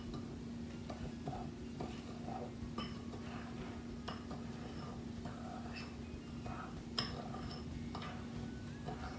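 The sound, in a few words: stirring sugar into egg whites for French meringue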